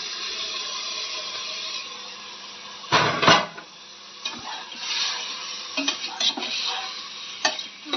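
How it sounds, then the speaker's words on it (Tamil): Beef added to a pan of sautéed ingredients and stirred: a steady low frying hiss with a sharp clattering burst of stirring and scattered utensil scrapes and taps. "நல்லா வதங்கின பிறகு அதுக்கப்புறம் நம்ம அந்த பீஃப் அப்படி போட்டு"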